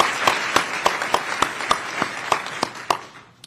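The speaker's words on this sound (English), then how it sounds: "Please give them another round of applause because they're most deserving of that" Slow, evenly spaced claps ring out at a U.S. Army Medical Center of Excellence change-of-command ceremony, about three per second. They sound sparse and hall-reverberant, then trail off at the end.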